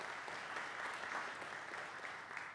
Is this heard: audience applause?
yes